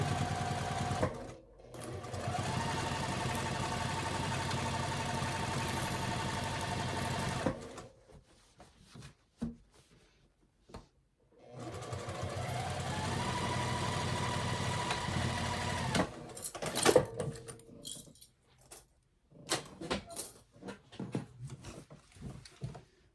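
A sewing machine stitches side seams in two long, steady runs of even mechanical whirring. Brief pauses and handling clatter come between the runs, and short bursts and clicks follow at the end. No one talks.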